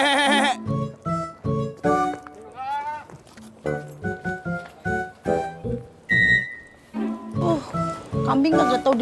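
A person imitates a goat's bleating with repeated short, wavering "beh" calls, mixed with lively talk from several people in a comic scene about a runaway goat.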